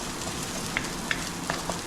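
Chillies fry in oil in a pan for homemade chowmein, giving a quiet, steady sizzle broken by a few small, sharp pops and crackles, with no voices.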